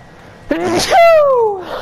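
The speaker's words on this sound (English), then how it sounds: "Oh, I've got a sneeze brewing." A single voiced sneeze bursts out close and loud, a sharp intake followed by a drawn-out falling cry lasting under a second.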